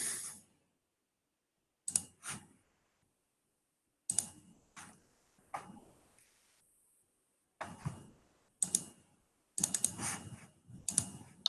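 Sparse mouse clicks on a computer, single and double clicks separated by quiet pauses, close and crisp, with no talking.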